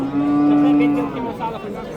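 An ox at a livestock market in Samarkand lets out one long, loud moo up close, fading into a low murmur of background noise.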